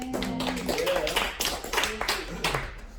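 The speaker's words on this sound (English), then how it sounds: "Keep that clap" Church worship team gathering breaks into scattered clapping, irregular claps at modest level mixed with voices talking over them.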